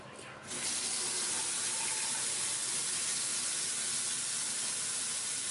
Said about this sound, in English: The water flow looks good too.